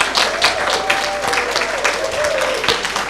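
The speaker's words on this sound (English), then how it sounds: "Let's give them a round of applause." Guests at an annual service awards luncheon give a round of applause for nominees, a full, loud burst of many hands clapping with distinct individual claps, while a sustained musical tone plays underneath.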